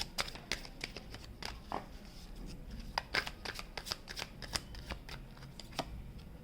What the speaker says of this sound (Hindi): I'll take 2 more cards from the Prism Oracle deck